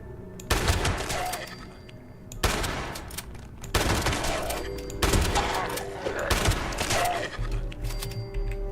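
Repeated bursts of gunfire from a gun in Fallout 76, four or five loud volleys of rapid shots separated by brief pauses, close and dominant with no talk over them.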